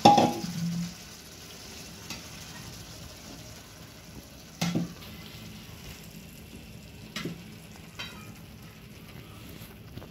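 Vegetables hitting hot frying masala on a tawa for pav bhaji, giving a soft steady sizzle with a few louder stirring scrapes and clatters, close by and with no talk.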